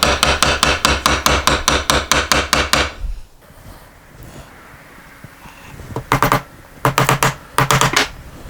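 A small hammer taps the ends of a guitar fret into place during a fret install, a fast run of sharp, evenly spaced close knocks, then a quiet pause, then two more short bursts of taps.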